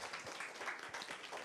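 Audience applause welcoming a speaker at a business presentation, a steady dense patter of many hands clapping at moderate distance for a short stretch.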